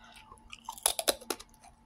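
Crunchy bites of a healthy salad mixed with cranberry and pickles, a few close, loud chews bunched together in the middle with quiet pauses on either side.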